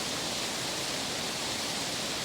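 Constant heavy roar of water pouring down at a roadside falls along Highway 96 in Custer County, Colorado, a close, unbroken hiss-like rush with nothing else audible.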